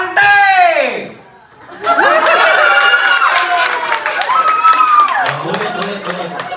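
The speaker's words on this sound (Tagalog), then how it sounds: "Sigawan at palakpakan para kay Team Ante!" A crowd of family and friends at a christening celebration in Manaoag shouts and cheers for Team Ante, a sustained loud swell of voices with scattered claps and laughter after a brief lull.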